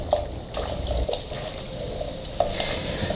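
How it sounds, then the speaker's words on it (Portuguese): Canjica, a sweet hominy dessert, being stirred in a pot as chocolate dissolves into it, with soft liquid scraping and bubbling and a few light spoon knocks on the pot, steady and close. "Agora aqui a gente vai mexer até dissolver"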